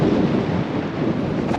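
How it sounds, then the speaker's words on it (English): Strong wind roaring and buffeting the microphone with a constant low rumble, loud and unbroken throughout, out on the world's largest salt flats in Bolivia. "It is windy as out here."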